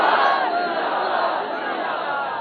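Crowd at a political religious rally in Choonian shouting a slogan back in unison, a loud, dense roar of many voices sustained through the clip.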